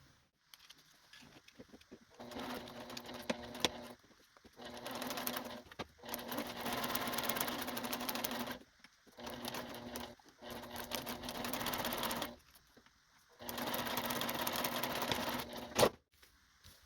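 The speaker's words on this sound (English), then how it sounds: "Let's go to the sewing machine." Sewing machine stitching quilt pieces in several bursts of rapid, even needle chatter, each a few seconds long with short pauses between, close and steady without speech.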